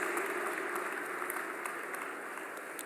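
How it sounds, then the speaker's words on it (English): Audience applause fills a convocation ceremony hall, a steady, dense clapping of many hands heard from some distance and sustained throughout. "Ladies and gentlemen, a huge round of applause."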